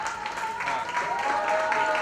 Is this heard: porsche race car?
no